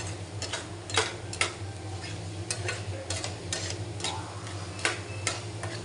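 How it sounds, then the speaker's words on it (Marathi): Chili being sautéed in masala in a pan until the oil separates, a steady low sizzle with repeated sharp spatula scrapes and taps against the pan, close by and alone. "या मिरचीला तेल सुटेपर्यंत या मसाल्यामध्ये व्यवस्थित परतवून घ्यायचं"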